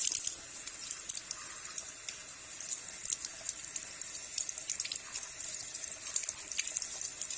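Ingredients are washed in a kitchen sink under a running tap, with a steady, moderately soft stream of water broken by light splashes and spatters as the food is rinsed.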